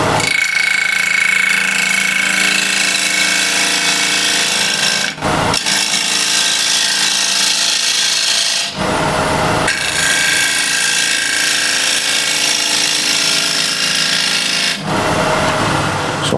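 A freshly sharpened ball gouge cuts dense, hard wood on a lathe, giving a loud, continuous rasping hiss that stops briefly three times before resuming.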